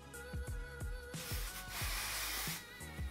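Suave Smooth 72-hour frizz-resistant hairspray gives one long, loud spray hiss of about a second and a half, close by. Sharp rhythmic clicks from hair styling come before and after it.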